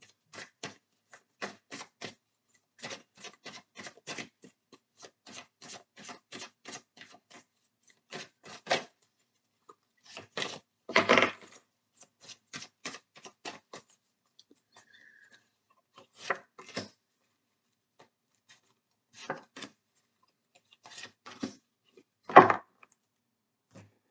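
Tarot cards being laid down and covered on a table, a run of light papery taps, slides and shuffles, with occasional louder slaps, close and quiet, no talking.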